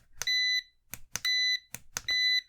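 A Kaiweets KM602 digital multimeter gives its continuity test beep: three short, bright, close tones, each following a faint click.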